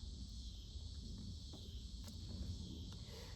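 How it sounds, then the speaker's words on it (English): Crickets and cicadas chirp outdoors on a quiet, sunny day: a steady high-pitched drone runs without a break, soft and distant, with a few faint clicks underneath and no talk. "all I hear is crickets and cicadas."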